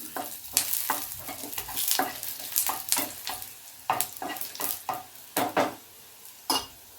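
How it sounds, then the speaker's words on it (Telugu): Dried red chillies and coriander seeds fry in hot oil and are stirred in a pan, giving a soft, steady sizzle broken by irregular scraping strokes and light clatters at close range, with no voices. "ఆయిల్ వేడెక్కింది, ఇప్పుడు ఎండుమిరపకాయలు వేస్తున్నాను, అలాగే ధనియాలు వేస్తున్నాను."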